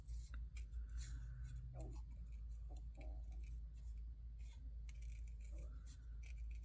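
Scissors fussy cutting paper for a book-themed journal, with quiet, close snips and rasping paper sounds in irregular bursts over a low steady hum, and a faint voice now and then.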